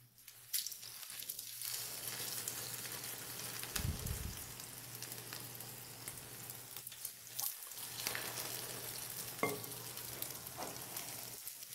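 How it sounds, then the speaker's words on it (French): Potato batter dropped into an oiled pan fries with a soft, continuous sizzle, while spoon clatters and a low steady hum run underneath, fairly quiet overall with no speech. "prenez une petite quantité de pâte et faites-la frire dans une poêle huilée"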